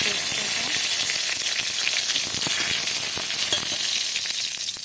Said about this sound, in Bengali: কড়াইতে এই যে তেল দিয়ে দিয়েছি দিয়ে দেবো দুটো শুকনো লঙ্কা